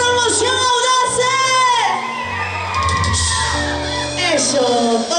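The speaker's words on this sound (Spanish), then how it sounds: "¡Un grito a la promoción Audace!" Wedding guests at a celebration shout, whoop and cheer loudly together, a dense crowd of overlapping yells with music underneath, sustained throughout and close.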